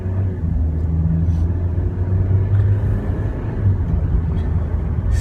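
A car driving through Winnipeg city streets, with a loud, steady low engine and road rumble filling the cabin, continuous and unbroken.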